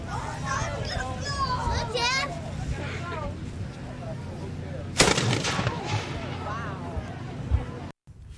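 At a Lewis and Clark bicentennial festival camp on the river, a cannon booms once with a sharp loud blast amid outdoor crowd chatter and children's voices, followed by a rolling echo.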